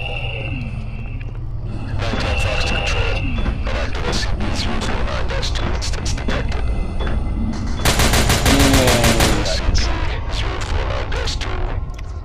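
Gunfire in the video game SCP: Containment Breach: rapid bursts of automatic shots crackle loudly across the scene, with an especially dense volley near the end, over background game noise.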